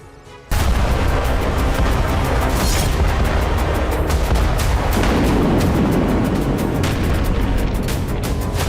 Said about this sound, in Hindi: माइंस में धमाकों से रूसी सेना को भारी नुकसान हुआ है।